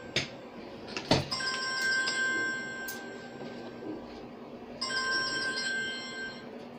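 A mobile phone rings with a steady electronic ringtone in two bursts, the second starting after a short pause, close and clear over faint room noise.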